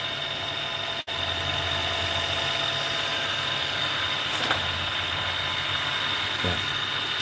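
A midi-size wood lathe turns a pen, giving a steady, loud motor whine with a constant hum that runs unbroken except for one brief dropout near the start, close by with no talking.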